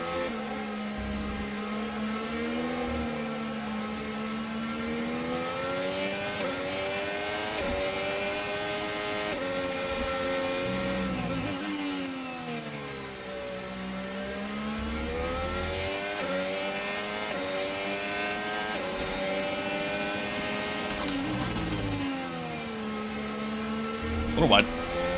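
Formula 1 race car engine in F1 25, a steady high-pitched whine that rises and falls through gear shifts for the whole stretch, close and loud, with a commentator talking over it.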